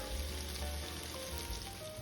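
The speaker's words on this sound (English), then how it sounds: "I've chopped up an onion, let's cook it." Chopped onion frying in a pan, a soft continuous sizzle with a low hum underneath, fairly quiet and steady throughout.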